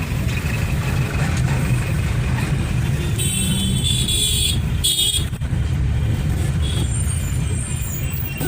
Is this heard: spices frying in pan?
no